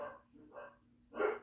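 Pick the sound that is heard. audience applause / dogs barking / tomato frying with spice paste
dogs barking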